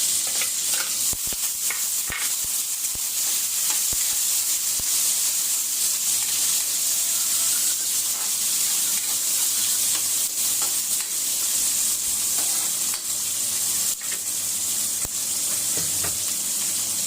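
Onion and tomato sautéing in a hot pan for a Bisaya-style chicken guisado, a steady close sizzle with frequent stirring scrapes and clicks throughout, no talking.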